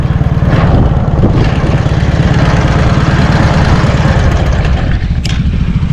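Loud, steady engine idling with a dense low rumble from Dnepr MT11 and Lifan SR220/Geon X-Road 250 motorcycles running in place close by.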